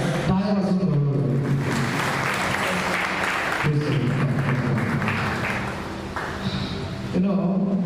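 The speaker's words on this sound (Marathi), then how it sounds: "या साक्षीसाठी देवाला टाळ्या वाजवून बोलवलं." A church congregation claps together in a steady, dense burst that runs most of the clip, with a voice speaking over the applause.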